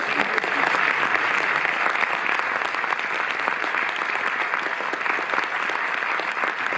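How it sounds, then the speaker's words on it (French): Steady, full audience applause in the Cinémathèque française cinema hall in Paris, dense continuous clapping from a large crowd throughout, with no voices over it. "Vous pouvez applaudir Bulogier."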